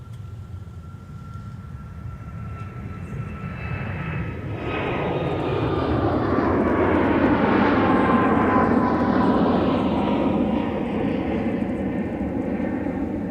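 A Delta Airbus A330neo jet at Minneapolis–St. Paul airport roars past, its engine whine building to a loud, broad rumble and then slowly fading, heard from a distance with no voices.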